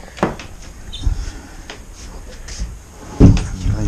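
A toilet lid at a campsite drops shut with a solid hollow knock, close and loud, after a few lighter bumps and clatters.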